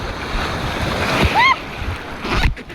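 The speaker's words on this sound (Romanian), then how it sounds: "o să vă dau să vedeți așa marea" Sea waves washing onto a beach in Spain, a steady broadband wash of surf with a louder surge near the end, heard close and continuous, with faint voices and a brief whistle-like chirp in the middle.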